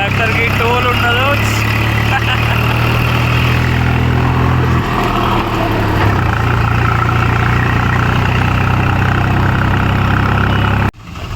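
Hauling sand, a tractor's engine rumbles up close in a continuous heavy drone, its pitch shifting slightly midway before the sound cuts off abruptly at the end.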